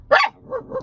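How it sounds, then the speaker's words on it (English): A dog in a backyard gives one sharp bark followed by two softer, shorter yips, close and loud. "we're going to try this again with the dog growling in the backyard."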